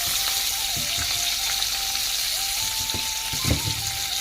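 Khingi fish with turmeric and salt fries in a pan for a Bodo titaphool curry, a soft continuous sizzle with occasional light knocks and a faint tonal hum behind it, close and fairly quiet.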